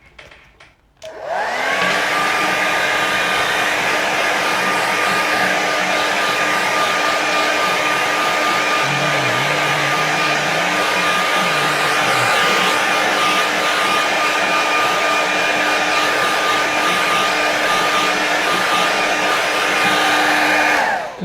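A hair dryer blows on a watercolour painting of a lakeside scene, switching on after a second and running loud and steady with a constant whine until it cuts off at the very end.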